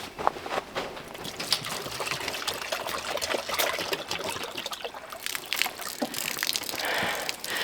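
Water pours and trickles steadily close by into a rabbit's water dish, a bright splashing stream that runs for several seconds without talking.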